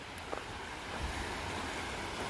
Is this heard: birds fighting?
no